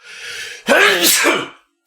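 A single loud sneeze, a breathy intake followed by a sharp burst that fades out, heard alone and close up.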